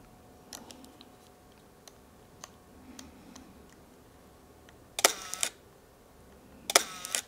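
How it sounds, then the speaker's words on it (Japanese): A Leica M8 digital rangefinder camera fires its shutter: faint ticks early on, then two louder, sharp metallic clicks with a brief whirring cocking sound, close by in a quiet room. "これが M8 の音です。"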